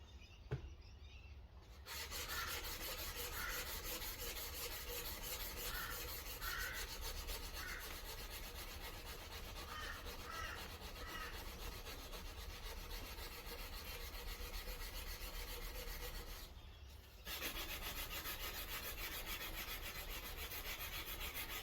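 Hand sanding with 180 grit sandpaper makes a continuous, close, steady scratchy rasp of even strokes, pausing briefly near the start and again just before the end, with no voices.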